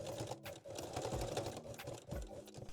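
Sewing machine running a straight stitch along the seams of handmade underwear, a close, fast mechanical whir with rapid needle chatter, pausing briefly between short runs.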